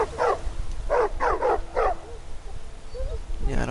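A dog in an Assassin's Creed video game lets out four quick, evenly spaced barks close by, followed by a brief whine and then a voice.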